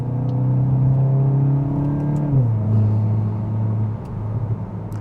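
A VW MK8 GTI fitted with an AWE Touring exhaust idles with a deep, steady drone, then its pitch drops as the revs settle, recorded up close with no one talking.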